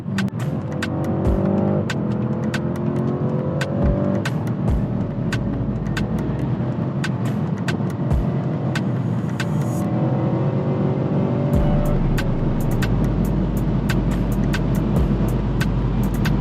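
A modded G30 car accelerates hard at very high speed, its loud engine drone steady and continuous with rising whine and periodic shift-like pulses, heard from inside with no talking.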